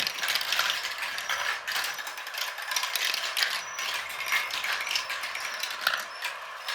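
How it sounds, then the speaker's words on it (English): A toy marble run elevator clicks and ratchets continuously as it carries a marble back up, a fast, even mechanical clatter heard close and alone. "here comes a marble right now, and it goes back up the elevator"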